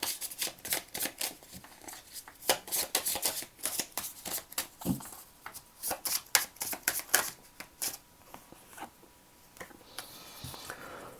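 Oracle cards are shuffled by hand in a steady run of crisp riffling and slapping bursts, close and fairly quiet, with no voices.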